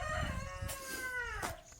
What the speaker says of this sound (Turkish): Horozlarımız ötüyor.